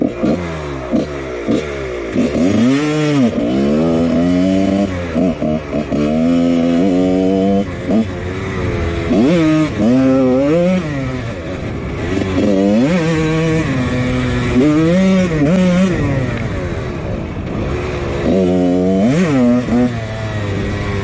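A cheap dirt bike engine revving hard in first gear, repeated rising and falling revs with a rough, buzzy tone, close and loud throughout.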